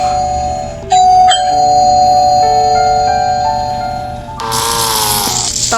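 A doorbell chimes loudly in a home, its ringing tones sustained and layered across several seconds with a brighter burst near the end; no voices.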